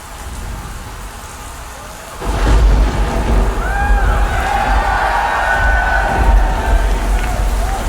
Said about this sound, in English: Yeah, it's thunder.